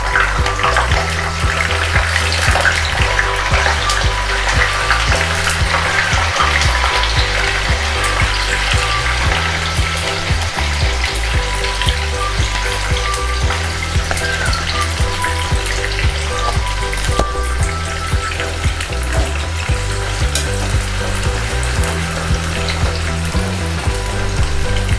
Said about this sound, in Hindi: डीप फ्राइंग के लिए मैंने ये अच्छे से तेल को गरम कर लिया है और अब हम अपने फ्राइज़ इसमें डाल देंगे